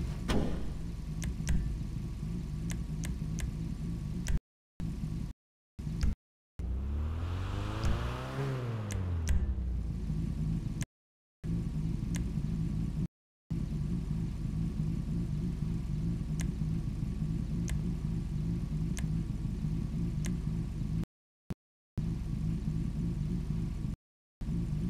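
Car engine in GTA V Online, a Truffade Nero Custom or Annis Elegy Retro being customised, idling with a steady low hum, then one sharp rev rising and falling mid-clip, broken by brief silent gaps.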